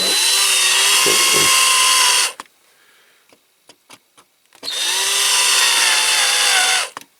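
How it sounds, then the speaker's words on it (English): A power drill whines loudly in two long sustained bursts drilling out rivets on a Dinky Toys die-cast caravan, with a pause of sharp metallic clicks and taps in between. "Okay, let's drill this out."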